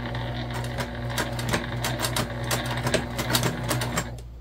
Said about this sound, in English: let's go ahead and baste these together first